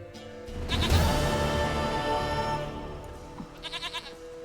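Goat bleating in The Witcher 3: Wild Hunt, a loud, drawn-out wavering bleat up close followed by a short run of quick pulsing bleats, with no talking.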